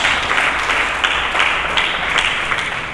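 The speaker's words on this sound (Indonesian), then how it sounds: "Mari kita berikan tepuk tangan dulu bagi Yesus" A steady wash of many hands clapping during a church sermon, dense and sustained throughout, like a congregation applauding in a large room.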